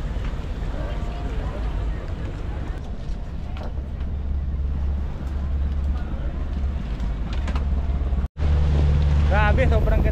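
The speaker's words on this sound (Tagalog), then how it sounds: "aalis na yung bangka natin" An island-hopping tour boat motors across open sea off El Nido, Palawan: a steady, loud engine drone mixed with wind buffeting and water rush. Voices can be heard over it.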